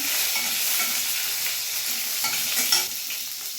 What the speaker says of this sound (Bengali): এবার ফোড়নটা একটু ভেজে নেব